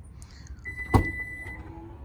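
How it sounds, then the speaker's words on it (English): A short mechanical click and thump followed by a steady motor whine as a Toyota RAV4 Prime's powered lift gate begins to open, close by with no talking. "the SE, I believe, comes standard with an automatic lift gate"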